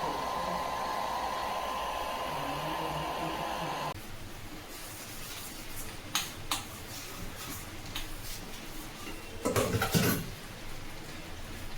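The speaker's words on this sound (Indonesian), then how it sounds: "Aku pakai hair dryer iparku ya," A hair dryer blows steadily on hair with a loud, even whir for about four seconds, then cuts off, leaving a quiet room with a few faint clicks and knocks.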